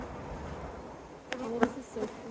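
Honey bees buzzing around an opened hive while supers are added, a dense low drone of many bees with a few louder close passes buzzing near the microphone.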